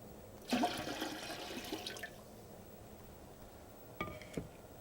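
Water pours and splashes into an empty metal canner set on a heat source for canning fish in jars, a steady rushing pour for about a second and a half, then a brief second splash after a pause.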